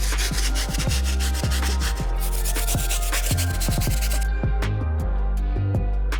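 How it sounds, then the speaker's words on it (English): Stiff brush scrubbing the soles of Air Jordan 4 Red Thunder sneakers, a steady loud rasping rub with repeated back-and-forth strokes and a few knocking taps, no talking. "Gonna go ahead and move back to the stiff brush and get these soles nice and fully clean."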